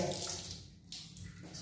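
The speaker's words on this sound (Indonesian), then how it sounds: "Pertama adalah berkumur-kumur sambil menghirup air." Water swished and rinsed in the mouth during Islamic ablution, a close wet gurgling and splashing that runs steadily for under two seconds with no talk.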